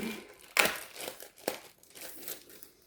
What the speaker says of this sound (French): il y a encore un sachet qu'on va déballer.